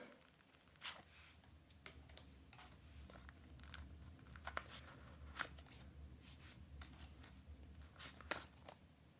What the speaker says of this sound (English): Okay, now I'm just going to remove all the cards now.